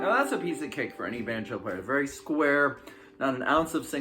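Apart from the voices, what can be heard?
No everyday noises stand out.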